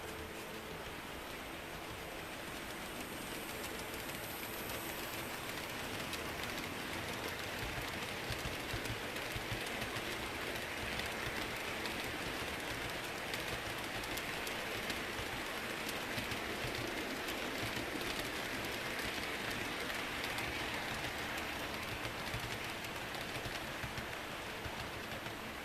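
A continuous rushing rumble of a small train running at speed, steady and moderately faint throughout, with fine clicking texture.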